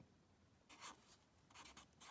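Pen or marker strokes while writing out complex-analysis integral equations, heard as a few short, quiet scratching bursts close by, with no speech.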